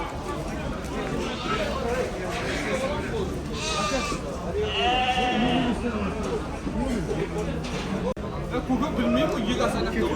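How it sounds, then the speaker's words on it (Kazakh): Romanov crossbred pregnant ewes bleat repeatedly at a livestock sale, several calls close by and overlapping amid steady crowd chatter and voices. "Романовский қойлармен шатыс екен бұл қойлар."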